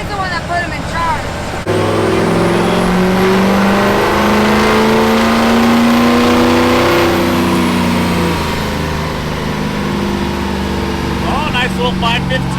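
A Duramax diesel farm truck with a dump bed runs hard on a dyno, its engine droning loud and steady at high revs for several seconds, then easing off, with brief talk near the start and end.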